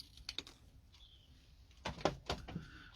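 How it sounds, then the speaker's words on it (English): Scissors cut open a foil seed packet of fine Rudbeckia seed: a few crisp, close snips and crinkles bunched near the end, after a quiet stretch with light taps. "then we just cut open the packet like so"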